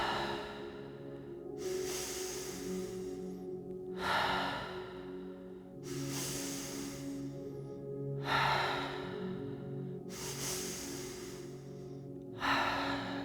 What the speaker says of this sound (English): 3-part breath